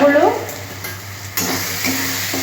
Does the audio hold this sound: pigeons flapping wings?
no